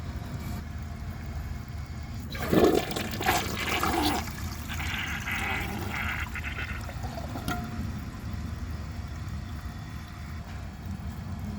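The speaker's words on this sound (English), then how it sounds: "I'm going to wait for the tank to refill, and then I'm going to give it another flush." A 2009 Gerber Avalanche toilet flushes with a sudden rushing burst of water that swirls for a couple of seconds, then settles into a quieter steady trickle as the tank refills.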